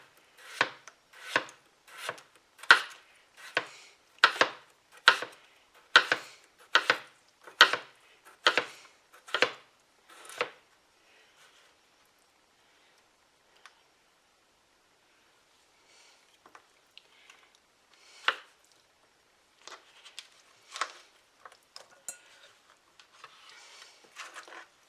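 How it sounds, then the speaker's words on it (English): A knife slices peeled potatoes very thinly, about a dozen crisp, regular chops landing close together, followed by a quieter stretch with only a few scattered cuts and faint handling sounds. "Now I'm going to cut these, and I'm going to slice these very thin."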